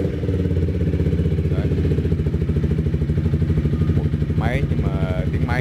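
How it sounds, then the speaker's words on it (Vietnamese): A Honda motorcycle fitted with a LeoVince exhaust runs with a loud, close, steady engine drone and a deep throbbing pulse throughout. "mình sẽ nổ máy cho anh em ạ"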